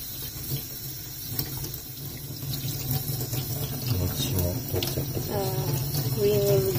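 A horse mackerel is rinsed under a running kitchen tap, with steady splashing water and scraping against the fish and sink, and a voice speaking faintly underneath.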